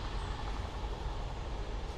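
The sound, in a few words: train passing near woods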